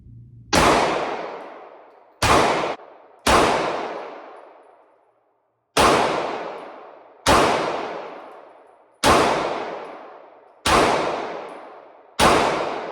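Eight sharp, loud pistol shots from a Springfield 2011 Prodigy, fired singly at irregular intervals with short ringing decays between them, close and without talk.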